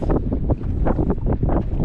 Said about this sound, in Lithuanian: Vėjas gerokai sustiprėjo.